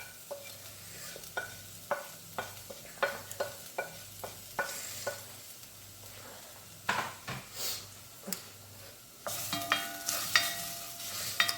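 Curry powder, turmeric, cumin and onion powder sauté in a pot for coconut curry lentils, heard as a soft sizzle under repeated scraping spoon strokes, with louder stirring and clattering near the end and no speech.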